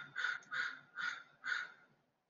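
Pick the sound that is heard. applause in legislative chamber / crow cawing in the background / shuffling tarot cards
crow cawing in the background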